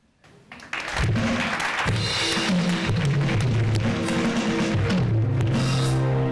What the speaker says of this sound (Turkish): alkışlayalım Ayşe Sude'yi